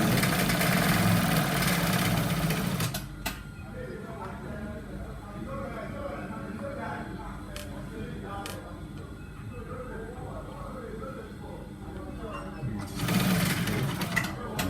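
A sewing machine stitches a trouser seam, a loud, fast whirring run at the start and again near the end. A quieter stretch in between carries a person talking over a faint hum.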